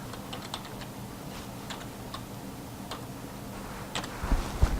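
A layout title is typed on a computer keyboard, with quiet, sparse, irregular key clicks over a low background hum and a few louder knocks near the end.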